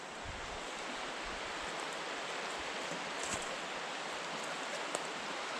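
A clear mountain river flows outdoors in a steady broadband rush that stays even and continuous throughout. No talk is heard.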